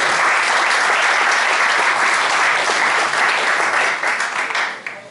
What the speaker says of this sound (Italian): Intanto dobbiamo fare gli auguri con un applauso al Pomodoro San Martino